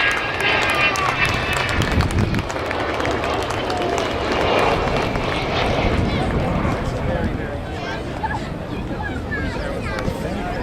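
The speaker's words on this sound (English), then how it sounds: "Here she is, the wonderful Avro Vulcan." An Avro Vulcan jet bomber roars overhead during an airshow display at Abingdon in 2011, a broad loud rush of engine noise mixed with crowd chatter and voices nearby.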